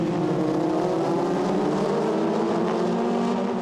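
Renault 2.0 race cars roar together through the second chicane at Monza, several engines overlapping in a dense, continuous high-pitched whine that stays loud and close for the whole stretch.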